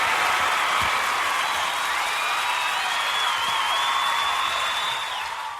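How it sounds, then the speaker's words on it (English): Recorded audience applause at a live comedy show, a dense, even wash of many clapping hands held at a steady level throughout, fading slightly at the very end, with no talking. "That was my wonderful round of applause to me."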